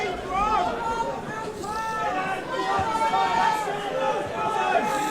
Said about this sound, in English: The crowd clearly appreciating that one.